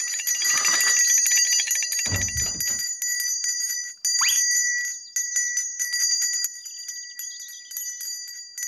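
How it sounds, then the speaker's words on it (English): A small bell rings in bright, repeated jingling bursts, fairly close, with brief pauses and a lower rustle between rings. "Looby Loo had come to see why Andy was ringing his bell"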